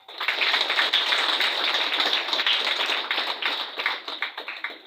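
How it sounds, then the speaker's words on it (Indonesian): Hands clap together in a crowd at a thanksgiving Mass for a newly ordained priest, a dense, bright patter of applause that holds steady and then loosens into scattered claps near the end. "Kita tepuk tangan."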